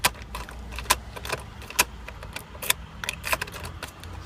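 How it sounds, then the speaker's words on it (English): Repeated sharp metallic clicks from a fiddly car ignition switch being turned without engaging the starter, irregular and close, with no engine cranking. "It's not clicking into anything. I mean, you can hear it clicking"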